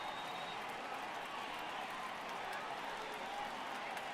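Home crowd murmuring at Great American Ballpark during a Mets at Reds baseball game in MLB The Show 18, a constant broad roar of stadium ambience with a faint under-layer of commentary.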